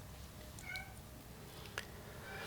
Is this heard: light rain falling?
no